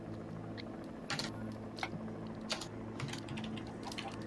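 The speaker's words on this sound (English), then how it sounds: "we're gonna type it all" Typing on a computer keyboard, soft scattered key clicks heard faintly over a steady background hum while playing Minecraft.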